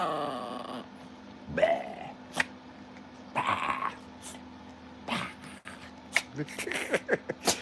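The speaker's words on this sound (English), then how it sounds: "She's a sassy little dog." A small dog grumbles and makes low growling, whiny noises in short bursts, close and fairly quiet indoors, with occasional faint rustling between the sounds.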